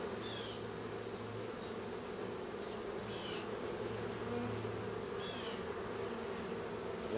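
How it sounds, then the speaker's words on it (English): Honeybees buzzing around an open hive during a September hive inspection, a dense continuous hum with louder passes of individual bees flying close to the listener. "I got a lot of bees."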